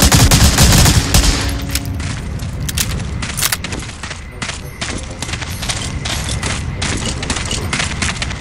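Rapid gunfire in the video game Medal of Honor: Allied Assault, loud and dense at first, then continuing as a sustained clatter of quick shots mixed with heavier booms.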